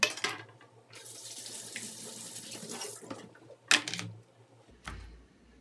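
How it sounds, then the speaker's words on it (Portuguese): Tap water running over a cutting board being washed in a kitchen sink, a hissing stream with clatter and knocks, close and moderately quiet. "Deixa aqui para lavar a tábua agora."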